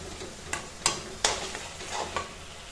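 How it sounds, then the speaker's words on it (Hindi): Mustard masala frying in oil in a pan, with a steady close sizzle broken by several sharp stirring scrapes and taps, heard without talk. "इसको हम प्रॉपर अच्छे तरीके से 10 से 15 मिनट तक भूनेंगे जब तक साइड से तेल न छोड़ दे"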